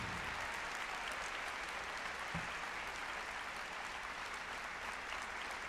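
A theatre audience applauds the Orlando Ballet's dancers after their original piece, steady dense clapping that fills the room throughout and never lets up.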